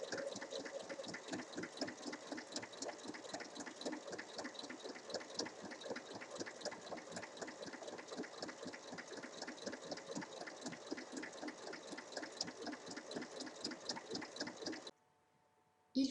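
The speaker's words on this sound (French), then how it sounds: "Maintenant, il faut venir faire une surpiqûre tout le long de la fermeture à glissière." A sewing machine topstitching along a zipper on a pencil case, its rapid, even stitching chatter running steadily and fairly close for about fifteen seconds before it stops abruptly.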